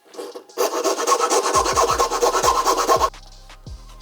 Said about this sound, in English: So I found another tab that needs to be filed.